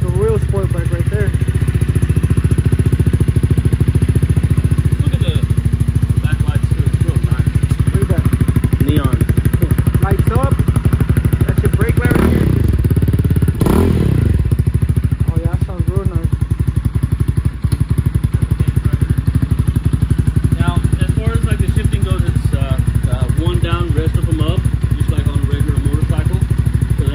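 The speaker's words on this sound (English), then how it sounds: "Hear that? That sounds like a real sport bike right there." A GTX 250 EFI sport motorcycle's engine runs steadily for the whole stretch, a loud, close, continuous rumbling idle with slight revving around the middle, while someone talks over it.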